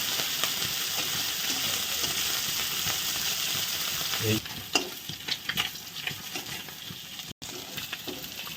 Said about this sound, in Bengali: মাছগুলো ভাজা হয়ে গেছে ওইগুলো উঠিয়ে নিচ্ছি